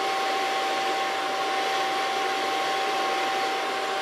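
A hair dryer blows steadily while hair is blow dried with a small brush, a continuous loud whooshing hum with a faint whine, unbroken for the whole stretch.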